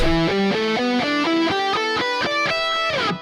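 Distorted electric guitar plays a quick run of single notes up and down a pentatonic scale, evenly paced, loud and close.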